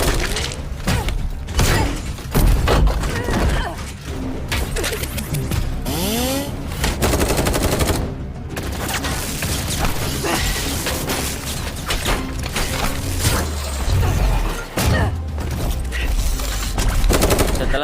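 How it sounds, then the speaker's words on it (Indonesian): Bursts of machine-gun fire and rapid gunshots ring out in a film scene of robots attacking a mercenary, heavy volleys alternating with short pauses, mixed with crashes and mechanical clatter over a loud soundtrack. "tiba-tiba datang sebuah robot bernama Zimbo yang langsung menembaki Jung Yi"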